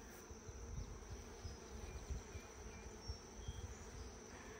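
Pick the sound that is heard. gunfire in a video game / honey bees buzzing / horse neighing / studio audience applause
honey bees buzzing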